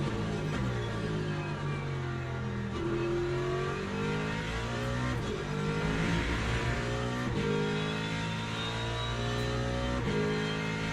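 Ferrari race car engines in a racing video game rev and accelerate steadily, with rising and falling harmonic pitch sweeps as gears change, loud and continuous throughout with no talking.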